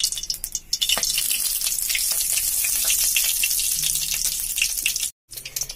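Nigella seeds hit hot mustard oil in a wok and crackle into a loud, dense sizzle that spits and pops steadily, then cuts out abruptly near the end.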